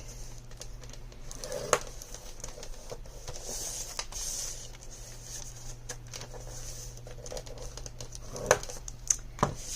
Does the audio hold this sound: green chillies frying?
no